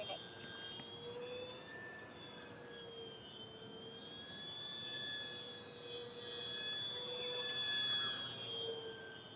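An E-Flite Corsair 1.2m RC warbird, an electric model plane, flies steadily overhead. Its motor makes a continuous whine that swells and fades slightly as it passes, heard from a moderate distance with no voices.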